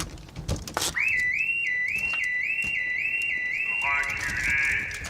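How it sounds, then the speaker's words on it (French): A home alarm system blares a shrill, warbling siren tone that starts abruptly after a loud bang and repeats in steady rising sweeps, loud and close, continuing to the end with a second tone layered in near the finish. "ce système d'alarme n'obéit qu'aux ordres de Robert Gratton"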